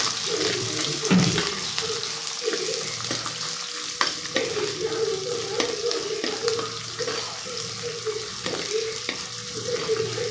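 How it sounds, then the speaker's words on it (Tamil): Onion and a few garlic cloves sautéing in a pan for a brinjal and field-bean tamarind curry, giving a continuous close sizzle with occasional stirring clicks. "நல்லா வதக்கணும், வதக்கிக்கலாம்."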